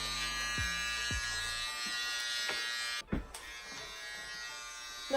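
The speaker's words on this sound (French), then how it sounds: "il se fait raser les cheveux" Electric hair clippers shaving a person's head, a steady close buzzing hum that holds throughout, broken by a few low knocks and a brief dip as the blade shifts.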